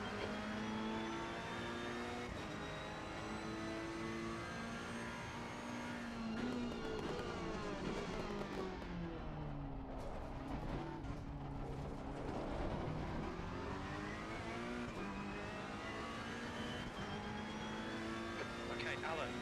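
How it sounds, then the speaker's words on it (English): A GT race car in Assetto Corsa Competizione drones steadily, with a second car closing in and sweeping past around the middle in a rising then falling engine pitch, loud and continuous with a voice speaking over it. "There's a car approaching. Watch your mirrors."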